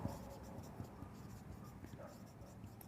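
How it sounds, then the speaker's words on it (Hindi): Scratchy strokes of a red pen writing on paper, faint and close, in short irregular bursts during a trigonometry lesson. "मैं यहाँ एक स्टेटमेंट लिख देता हूँ लाल पेन से"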